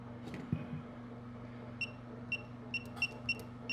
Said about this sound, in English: When you press the pound, you're going to get a long beep.